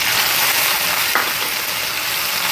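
Steady frying sizzle from a milkfish sinigang sa miso pot as tomatoes are added, a continuous bright hiss with a brief splash-like burst midway, loud and close with no talking.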